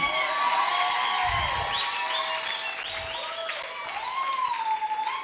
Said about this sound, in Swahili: Pigie Bwana makofi.